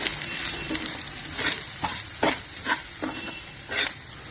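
Semolina (rava) being stirred and roasted in ghee for a Konkani ghee upma, with a steady soft sizzle broken by repeated scraping strokes of a spoon against the pan, close and moderately loud, no talking.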